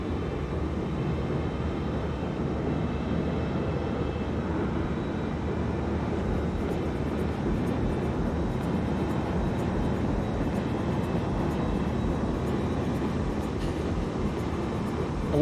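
An Embraer E175 airliner takes off in Microsoft Flight Simulator, a steady, loud, broad engine roar that holds evenly throughout with no talking.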